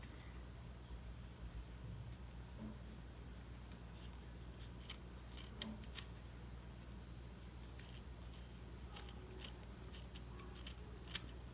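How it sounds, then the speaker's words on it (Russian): Scissors cut through twisted rope while a handmade bag is being finished. Quiet, sparse snips and clicks sound close up against a faint background. "на этом этапе я обрезаю канат"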